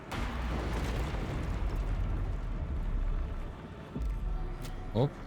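Gunfire and a heavy explosion from the video game Little Nightmares III, a sustained, loud rumbling blast with a few sharper pops near the end, under a player's speech.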